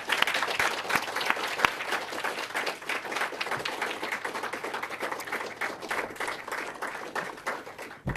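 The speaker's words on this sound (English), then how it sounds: "please join me, delegates, in giving them a round of applause" Steady applause from conference delegates at a G20-related gathering, a dense wash of many hands clapping continuously at moderate level, with no talk over it.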